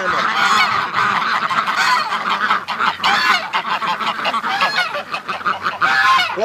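Flock of Canada geese honking nearby in a loud, continuous chorus of overlapping calls, steady throughout with no talking.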